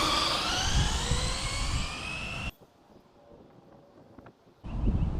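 A Losi 22S no-prep drag RC car makes a pass, its electric drive rising to a loud, high whine. The whine cuts off into near quiet, then surges back.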